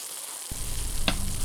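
A knob of butter hits a hot cast iron pan with pork chops and bursts into loud, close sizzling, a brief clink near the start, then steady frying with no voices.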